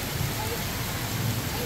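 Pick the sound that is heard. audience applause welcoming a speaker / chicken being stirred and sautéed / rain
rain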